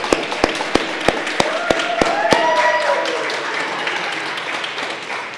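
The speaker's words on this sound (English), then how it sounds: "So let's give him a round of applause." Slow, evenly spaced claps ring out sharply at a city hall Cambodian flag raising ceremony, about nine in steady rhythm, over a background of voices and murmur that carries on after the clapping stops.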